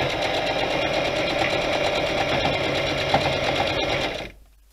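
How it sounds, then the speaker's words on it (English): A sewing machine stitches a seam on a City Shopper bag with a fast, steady mechanical whirr, loud and close throughout, then stops abruptly near the end. "you just simply sew right to the end of this particular line."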